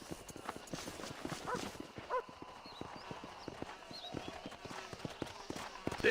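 Horse hooves clip-clop in Red Dead Redemption in a brisk, regular rhythm of close, crisp strikes, with faint background game ambience and a soft whinny-like accent partway through.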